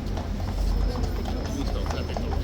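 Horse hooves clip-clopping on a road, a steady close rhythm of hoof strikes, with someone talking over it throughout.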